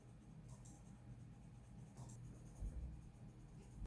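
Coloured pencil strokes scratch softly on paper in short repeated passes while layers are blended, faint and close, with a few light bumps toward the end.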